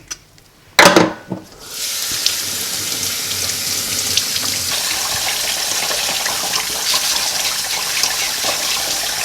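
Tap water runs while raw chicken is rinsed in a kitchen sink: a brief clatter, then a steady, close rushing stream that continues without pause, with no talking.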